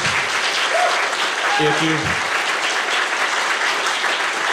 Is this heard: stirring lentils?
no